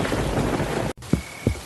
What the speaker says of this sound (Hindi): आसमान में बिजली कड़कती रही, बारिश मूसलाधार बरसती रही